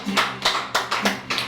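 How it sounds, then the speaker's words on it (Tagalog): A church congregation keeps clapping together in a steady rhythm, five or six full claps close to the listener in a reverberant room, with faint low hum underneath. "Yung palakpak na aabot sa trono ng Diyos."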